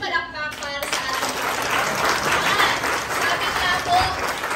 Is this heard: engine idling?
no